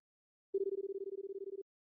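A single ring tone on the telephone line in the video game Paper Lily: a steady, slightly pulsing electronic buzz lasting about a second, clean and isolated against silence.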